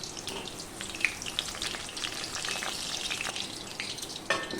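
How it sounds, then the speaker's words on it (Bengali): Eggplant slices fry in hot white oil, giving a close, steady sizzle with scattered sharp pops and crackles, louder bursts here and there, and no voices. "তেল গরম হয়ে গিয়েছে, এখানে আমি সাদা তেলে ভাজছি"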